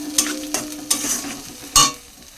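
Spinach paste frying in a pan with salt, turmeric and sugar, stirred with a utensil: a steady close sizzle under a few sharp scrapes and clinks, with no talking.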